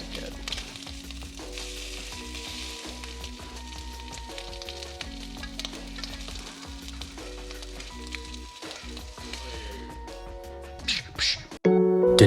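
Crab cakes sizzle and fry in bubbling butter in a hot pan, a steady close hiss lasting throughout, with music playing beneath and a louder burst near the end.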